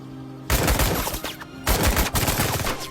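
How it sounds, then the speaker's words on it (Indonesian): Gunfire from an action film about an elderly special forces team: two bursts of rapid shots, loud and dense, separated by a short lull, with no voices heard. "inilah skill menembak Amoy"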